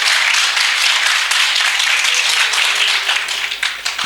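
Applause at a high school debate competition, a dense, sustained wash of many hands clapping throughout, loud and even before slowly thinning toward the end.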